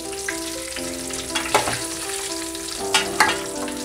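Boiled eggs frying in a pan for egg curry, a steady sizzle with a handful of sharper crackles and stirring scrapes, close by and with no talking.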